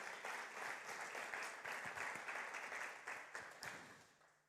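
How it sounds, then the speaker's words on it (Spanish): Church congregation giving loud, sustained applause, dense even clapping filling the room and tapering slightly toward the end. "Dale fuerte aplauso al Señor"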